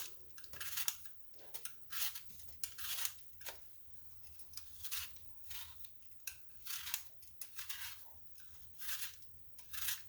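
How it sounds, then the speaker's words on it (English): A handheld vegetable peeler scrapes around apples for apple crisp, a series of soft, rhythmic rasping strokes repeating roughly every second, close and quiet with no talk. "So I just used my vegetable peeler"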